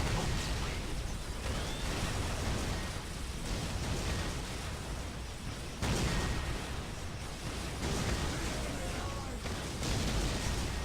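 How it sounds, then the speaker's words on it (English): Long-range cannon fire and explosions from the Dawn of War: Dark Crusade strategy game pound an enemy HQ, a dense, continuous barrage of booms filling the mix with little pause. "This guy's cannon is very long-range and very dangerous against buildings"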